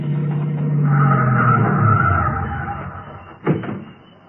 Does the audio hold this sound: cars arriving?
yes